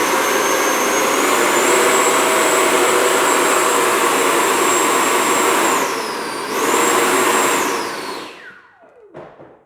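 An 80mm electric ducted fan in a Horizon Hobby F-18 Blue Angels RC jet screams at high throttle, a loud, steady whooshing roar with a piercing whine that dips briefly, rises again, then spools down and cuts off.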